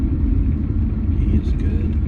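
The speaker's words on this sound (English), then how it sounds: "Here's a car driving." A car driving past on a road, a loud close low rumble of engine and tyres that holds steady for a couple of seconds with faint hiss above.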